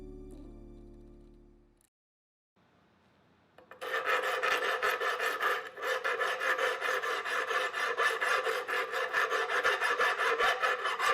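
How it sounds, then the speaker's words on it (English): Steady rhythmic rasping of a file scraping back and forth across hardened epoxy resin, close and loud, after a few quiet taps and a pause. "Since there are some bumps, I'm using a file first"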